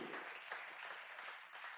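A church congregation applauding during a service, a short burst of clapping from the crowd, fairly faint and distant.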